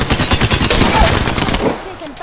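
Rapid automatic gunfire in the online shooter game Apex Legends, a loud close burst of repeated shots lasting about two seconds, with game voice lines mixed in.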